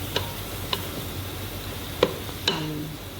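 Oyster sauce is stirred in a hot pan, producing a few sharp, separate ticks and clinks of a utensil against the pan over a faint low sizzle, with no voices.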